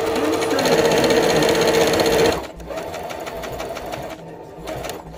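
A sewing machine running straight stitches through fabric, a fast steady mechanical whir that drops briefly in pitch and level partway through, then runs on at a lower hum, close, no talking.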